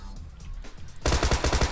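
Submachine gun fire in the battle royale game PUBG: a loud, rapid burst of shots in a steady rhythm, starting abruptly after a quieter stretch and lasting to the end.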